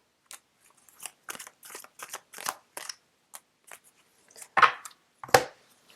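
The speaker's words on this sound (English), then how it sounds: "I'm going to put these in and shuffle it again because too many came out" Tarot cards being shuffled by hand in a quiet room, heard as a series of short, crisp riffling and snapping bursts, close and fairly loud, with two sharper flurries near the end.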